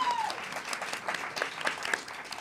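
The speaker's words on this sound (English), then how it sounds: "give another round of applause for everyone who's gone so far" Applause from a theater audience at an evening showcase of new musicals, steady and moderately loud across the whole stretch, with brief voices mixed into the clapping.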